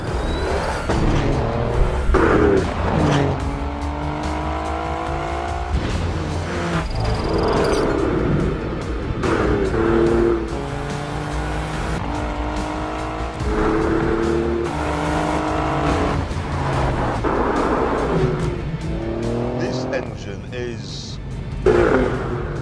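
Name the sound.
Alfa Romeo Giulia Quadrifoglio twin-turbo V engine driving fast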